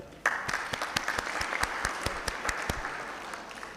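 An audience at an annual general meeting of an engineering institute breaks into applause, sharp claps starting abruptly and continuing loosely before thinning out.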